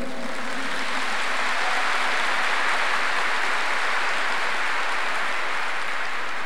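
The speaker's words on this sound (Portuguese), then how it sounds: "Mas porque vocês podem aplaudir." Loud, dense applause from a large audience at a Catholic Pentecost gathering for women, a continuous roar of clapping that sounds slightly harsh and saturated from start to end.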